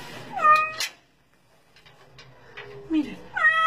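Two cat meows, one early and one near the end, with a lower drawn-out yowl between them and faint background sounds.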